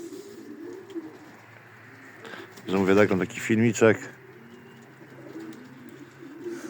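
Soft, low coos from breeding pigeons murmur in the background while someone speaks briefly over them.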